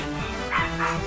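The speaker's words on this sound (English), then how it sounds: "And sorry about the dog." A dog yips and barks twice in the background during a Pokemon Showdown game session, short excited woofs over a steady low hum, fairly faint and not close.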